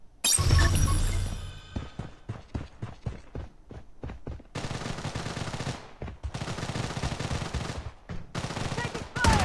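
Gunfire rattles through the BloodStrike mobile shooter game: a burst of separate sharp shots, then long loud automatic volleys with short gaps between them.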